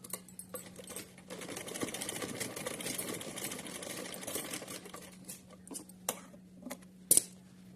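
A sewing machine stitches cotton cloth, a steady fast mechanical whir with a low motor hum running for several seconds, then stopping and restarting in short bursts with a few sharp clicks near the end.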